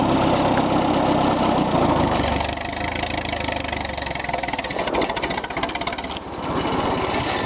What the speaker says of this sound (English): This tractor is whisper quiet once they get it going.